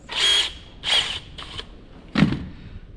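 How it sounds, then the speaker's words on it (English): A power drill widens a hole in a pressure washer part, running in three short whirring bursts followed by a lower clunk, close and fairly loud with pauses between. "I'm just going to run the drill around that there, widen it out"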